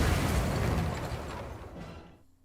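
A big bomb blast in a video game hits as a loud, dense rumbling boom that starts immediately and fades away over about two seconds into near silence.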